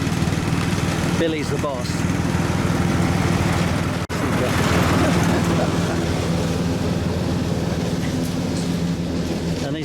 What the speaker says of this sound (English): he's running out of the way of the mower as well